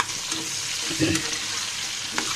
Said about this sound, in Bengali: এখন আবারও নেড়ে দিচ্ছি দেখুন